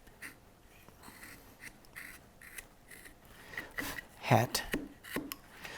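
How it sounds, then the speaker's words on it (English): A knife carves wood in short, scraping and rasping strokes, irregular and close, heard under quiet talk. "now we're going to take our knife and we're going to start taking this back here"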